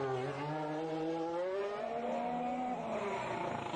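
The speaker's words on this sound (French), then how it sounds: "Vous voyez les voitures, au lieu de glisser un peu en diagonale, elles glissent, on les entend patiner, mais elles s'assoient." Formula 1 cars at the 2021 Monaco Grand Prix practice session, engines whining and shifting pitch as they slide and spin their tyres, a steady loud roar of more than one car with no talk.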